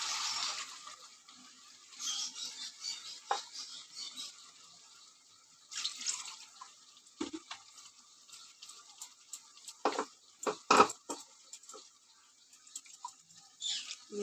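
Water poured and swirled while a mixer grinder jar is rinsed in a kitchen: close splashes, trickles and clinks come in intermittent bursts.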